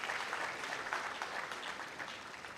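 An audience applauds steadily, a dense wash of many hands clapping at once that holds for a few seconds and eases slightly at the end.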